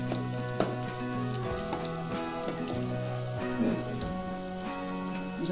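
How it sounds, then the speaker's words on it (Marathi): Chillies and garlic sizzling and roasting in hot oil in a pan, a steady close crackle and spatter with occasional pops, no talking. "काढून मिरच्या लसूण आता चांगलं भाजून घ्यायचं आहे"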